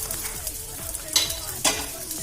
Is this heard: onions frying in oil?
yes